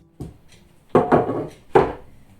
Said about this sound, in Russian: Айву буду нарезать дольками